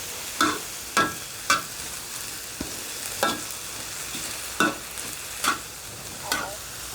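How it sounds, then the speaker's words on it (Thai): Sun-dried pork being stir-fried with onion flowers in a hot pan: a steady sizzle underlies about eight sharp, evenly spaced scrapes of a spatula, close and clear with no talking. "ผัดใส่ดอกหอมแซ่บๆเลยค่ะ"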